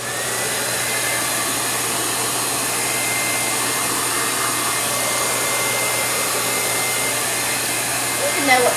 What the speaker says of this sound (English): I'm just going to use my hair dryer so I won't have to run and get my heat gun.